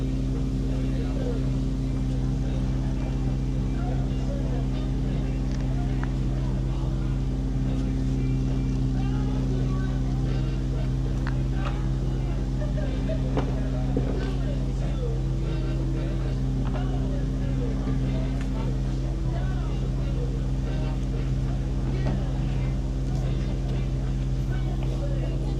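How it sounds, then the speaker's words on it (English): Motorboat engine droning steadily on the water during a spring SUP race at Lido delle Nazioni, Italy, a constant low rumble with steady hum running throughout and no clear breaks. "We are currently on the boat."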